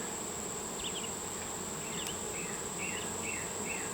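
Honeybees buzzing steadily in the bottom box of a newly established hive during an inspection, a dense close insect hum with a few faint higher chirps, no voices.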